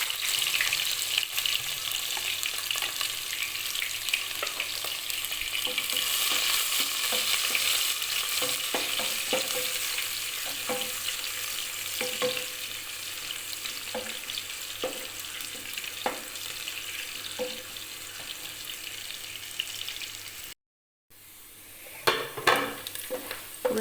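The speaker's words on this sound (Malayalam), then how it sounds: "ഉള്ളി നല്ലോണം പൊരിഞ്ഞിട്ടുണ്ട്." Onions fry in hot oil for prawn biryani, a loud steady sizzle with recurring scrapes of stirring, a brief silence, then scattered clinks and stirring at the end.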